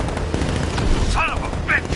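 Bursts of gunfire ring out in a Batman: Arkham Knight vehicle chase, dense and noisy, with short sharp cracks and whooshing fly-bys, mixed with loud action sound effects and shouting.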